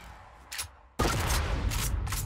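A grenade-launching weapon fires in Fortnite: a faint pop, then a loud close blast at about one second with ringing, crackling debris after it, and no voice.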